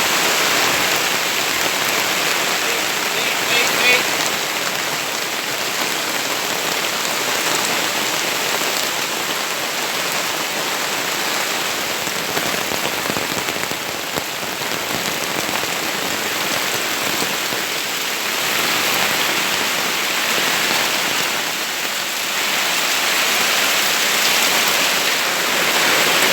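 Steady, heavy rain pours down continuously, a dense hiss of drops hitting surfaces with no other sounds.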